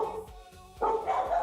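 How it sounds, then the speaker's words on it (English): A dog barks a few times in quick succession, fairly close, with a short pause before a louder burst of barking. "My dog is answering back"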